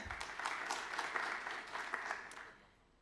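Applause for the online audience at the opening of a university department's jubilee conference; a moderate room of people clap steadily, somewhat distant, before the sound fades out near the end.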